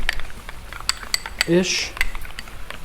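A utensil clinks and scrapes against a bowl while sriracha sauce is mixed in, with a quick run of light metallic taps, a brief squeaky scrape, then more scattered clinks, close by.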